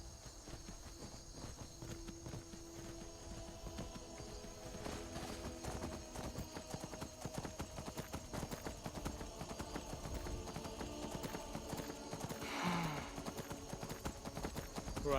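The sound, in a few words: horse hooves from a video game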